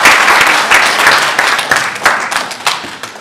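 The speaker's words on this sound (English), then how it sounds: "please give a hand of clap for this" Audience applause at a formal gathering of cultural leaders and officials, dense steady clapping from a roomful of people that carries on throughout, fairly close and loud.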